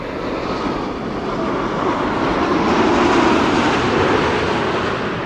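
A Boeing 787-10 Dreamliner arriving at Amsterdam Schiphol, a strong, steady jet-engine roar that swells a little toward the middle and stays even, with no voices.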